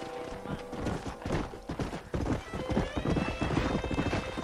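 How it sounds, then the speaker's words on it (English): Rapid, rhythmic hoofbeats of a galloping horse in the video game Red Dead Redemption, with a whinny in the mix and faint background sounds. "My horse is speeding up."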